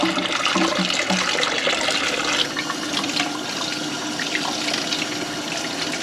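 Fresh tap water runs steadily from a faucet into a sink or bowl to rinse homemade butter, a continuous close gushing that stays level throughout.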